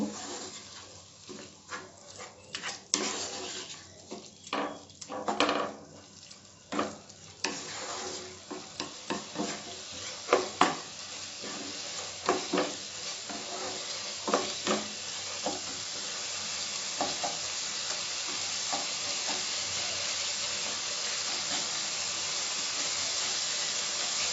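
Vegetable sambar with a little added water is stirred in a pot, giving repeated close scraping and splashing strokes over a gentle sizzle, then the stirring stops and a steady simmering hiss carries on alone.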